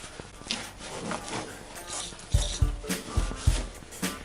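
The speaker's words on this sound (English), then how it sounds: "I'm just using brake cleaner again. Get all this garbage off of here." Rag scrubbing a plastic gas tank clean with brake cleaner during a repair, heard as soft rubbing and wiping strokes with a few louder knocks and handling thumps toward the end, close to the microphone.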